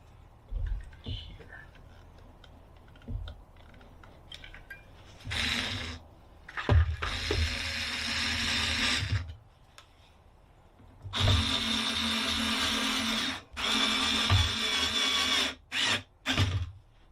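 A power drill drives screws into the sides of a reusable mold in short and long bursts, close and fairly loud, separated by quiet pauses with soft handling noises.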